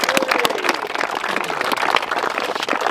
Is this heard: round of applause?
yes